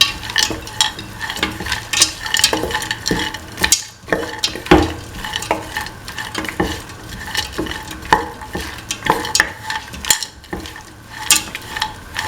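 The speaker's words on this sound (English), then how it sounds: "Mix in the kidney beans thoroughly." Kidney beans are stirred in a cooking pan on the stove with a utensil, a steady run of scraping and clinking strokes over a soft sizzle, close and continuous for the whole stretch.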